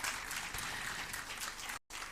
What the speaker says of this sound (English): Please give a big round of applause to her.